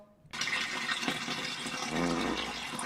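A steady rush of splashing liquid starts abruptly and runs continuously, sounding like a stream of water falling into a bowl.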